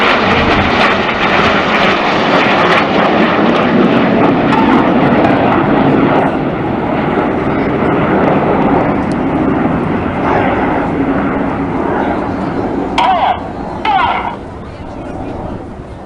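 Display jets in formation at the 2014 Cleethorpes Airshow fly rolls overhead with a loud, sustained engine roar that slowly eases as the aircraft pass. Crowd noise sits faintly underneath.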